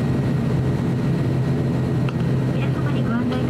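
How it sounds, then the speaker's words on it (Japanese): A Japan Airlines airliner about to take off from Sapporo Okadama Airport, heard from inside the cabin as a steady, loud engine roar and rumble filling the whole stretch, with faint higher tones near the end. "この飛行機は間もなく離陸いたします。"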